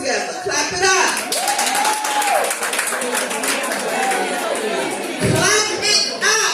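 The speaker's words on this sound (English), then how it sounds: "Clap it up if you had that partner." Audience clapping at a live talk event, a broad noisy wash of hand claps filling the whole stretch, loud and steady with cheering and voices mixed in and a brief dip near the end before it swells again.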